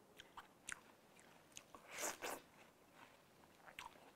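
Crunchy watermelon being bitten and chewed, a few crisp, moist crunches spread across the moment with one louder burst in the middle, close and fairly quiet, no talking.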